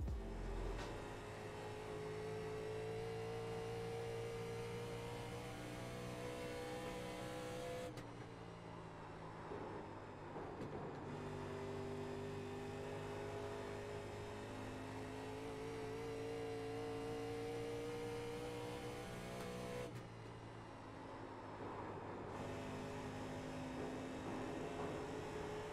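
Steady race car engine drone through an oval lap in iRacing, a sustained loud tone with harmonics shifting slightly at a few points, no voices.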